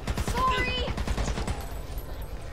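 Gunfire in the co-op zombie shooter Back 4 Blood: a dense fusillade of rapid shots under a speaking voice, fairly loud early on and thinning toward the end.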